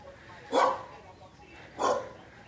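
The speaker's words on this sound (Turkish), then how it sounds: "Yalnız bu köpek, köpekler var ya" Two distinct dog barks about a second and a half apart, moderately loud against a quiet background hum.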